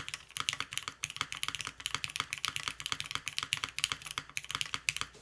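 Fast, continuous clacking of a 60% mechanical keyboard with Cream Soda switches being typed on, crisp and close, with dense keystrokes and no talking.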